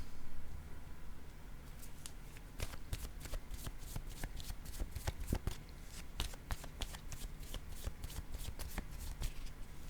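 Tarot cards riffled and handled in a quiet room, a run of crisp, close flicks and snaps clustering in bursts over a soft background hiss, with no talking.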